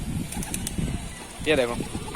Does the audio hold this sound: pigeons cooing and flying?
yes